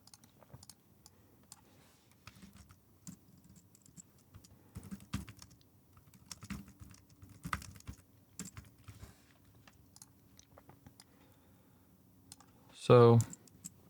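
Computer keyboard typing in scattered bursts of soft clicks across the whole stretch, fairly quiet and close, with a short louder knock near the end.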